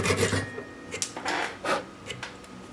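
Hand sanding of a wooden crankbait body, a series of short rasping rubs in an uneven back-and-forth rhythm, close and fairly loud, with no talk.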